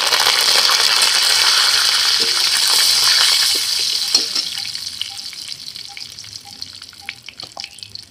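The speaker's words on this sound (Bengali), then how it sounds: "এখানে আমি ফোড়নে দেব একটা শুকনো লঙ্কা, 3টে ছোটো এলাচ, আর কালো জিরে, আর কারি পাতা।" Dry red chili, small cardamom pods, nigella seeds and curry leaves sizzle loudly in hot oil, a dense steady crackle that gradually settles into softer, scattered spitting pops.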